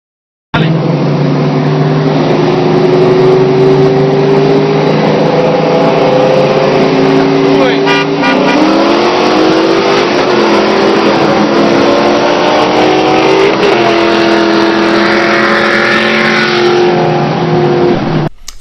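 Supercharged 2000 Mustang GT pulling hard in a race once the clutch grabs, a loud, steady engine roar with rising pitch through the gears and a brief shift dip midway, sustained close and continuous.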